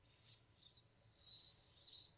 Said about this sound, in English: Can you whistle through it?